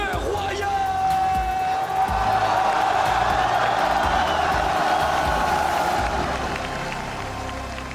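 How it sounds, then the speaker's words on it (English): Large arena crowd applauding and cheering at the 2018 MSI League of Legends esports final, a dense, loud wash of clapping and crowd roar held throughout, with a steady tone riding over it and fading slightly near the end. "Une autre salle d'applaudissements, s'il vous plaît, pour le Royal!"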